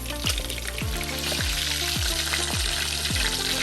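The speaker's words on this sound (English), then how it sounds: "And we are frying this in the coconut oil." Snapper fish frying in coconut oil, a steady dense sizzle throughout with regular repeating thumps, loud and close with no talk.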